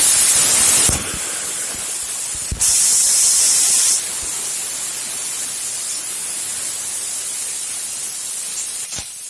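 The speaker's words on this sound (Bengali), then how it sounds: "আবার আমি সবজিগুলো ভেজে নেব।" Carrots, green beans and potatoes frying in hot mustard oil in a kadai give a loud, steady sizzling hiss. Two sharp, bright bursts of spitting come near the start, then it settles into an even crackle.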